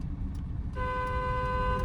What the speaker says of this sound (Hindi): एक लॉन्ग हॉर्न प्रेस करो।